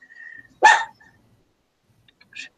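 A dog gives one short, sharp bark close by, then a second quieter bark a moment later, with faint tonal sounds in between.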